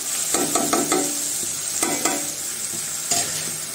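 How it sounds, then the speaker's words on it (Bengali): A paste of ginger, garlic and green chilli with turmeric, cumin, chilli powder and salt fries in hot oil. It sizzles loudly while a spoon scrapes the pan in quick bursts of three or four strokes, with short pauses between. "এখন মশলাটা ভালোভাবে কষিয়ে নেব।"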